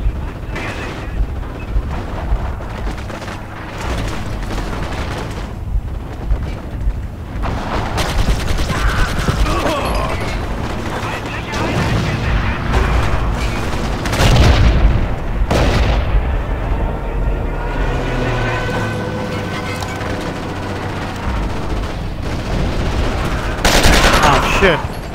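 Battle sounds from the World War II game Forgotten Hope 2 at the Siege of Tobruk: dense rifle and machine-gun bursts, heavy artillery booms and deep rumbling explosions pile up continuously, loud and close, with shouted voices occasionally heard among them.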